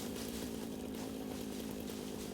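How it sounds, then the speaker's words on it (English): A chainsaw in the video game Satisfactory runs in a steady, continuous buzzing drone at fairly low volume, with no break in the engine tone. "This chainsaw's OP."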